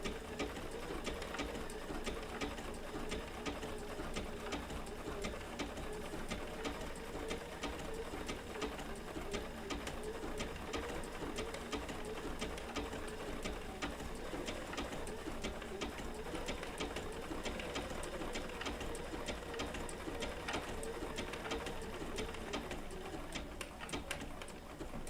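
A Bernina B790 PRO sewing machine with an open-toe foot stitches wool appliqué in a steady, fast mechanical rattle that runs continuously and close throughout.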